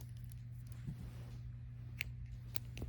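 Scissors snip through crochet thread while an Irish lace crochet cap is made, with a few quiet, sharp cuts over a steady low hum, close and faint.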